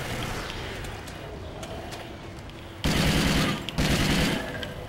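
Maverick rifle fitted with a red dot sight firing in Call of Duty Ghosts Extinction, a dense, loud burst of rapid shots over steady game ambience, stopping briefly and then firing again.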